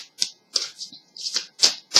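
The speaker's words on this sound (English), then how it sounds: "let's shuffle this the right way" A tarot card deck shuffled by hand at close range, giving several crisp, papery riffling bursts in an uneven rhythm with short gaps between them and no talking.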